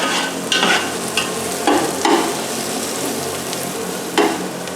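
Ginger garlic paste sizzles in oil in a pan for chicken biryani, a steady frying hiss broken by several sharp scraping strokes of a spoon stirring, close and clear with no talking.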